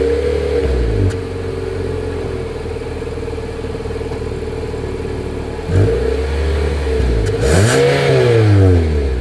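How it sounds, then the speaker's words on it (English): A 2023 Nissan Altima engine idles with a deep burbling dual exhaust, then revs up sharply a few times, the pitch climbing and falling with each blip. "Here is that exhaust clip."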